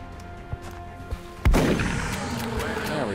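Gunfire in the turn-based strategy game XCOM: Enemy Unknown, with a few soft thumps followed by one heavy blast that rings out and decays, with faint game ambience beneath.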